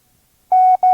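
A single steady Morse code tone for a comma, sent at five words per minute as a clean mid-pitched beep in two long bursts with a short break between them, clear and alone after a moment of silence.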